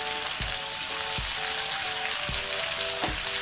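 Shrimp fry in hot oil, giving a steady dense sizzle with a few soft low knocks from the pan, close and continuous with no talk.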